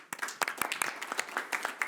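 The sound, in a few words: audience applause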